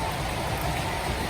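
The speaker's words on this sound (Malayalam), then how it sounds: "രാവിലെ തന്നെ മഴയാണ്" Steady morning rain falls as a dense, even hiss with no breaks, with no voices over it.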